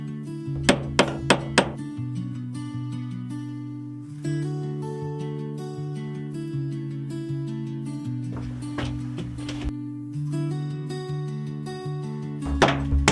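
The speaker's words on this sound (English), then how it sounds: "Each panel is secured with firm, rhythmic hammer blows, the sound echoing warmly within the cabin" Wooden wall panels are nailed up inside a cabin with firm hammer blows, heard as a quick run of sharp knocks near the start and more later, over a steady sustained musical tone.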